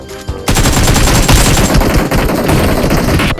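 Rapid automatic gunfire from the BGMI mobile shooter game, loud and continuous bursts rattling almost nonstop for several seconds after a brief quieter opening.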